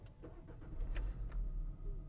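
A 2025 Opel Grandland GS Line starts by push button with a low, quiet rumble that rises in a couple of soft surges, joined by faint clicks near the start.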